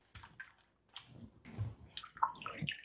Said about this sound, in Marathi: आणि हे वेफर्स या तुरटीच्या पाण्यामध्ये घालायचं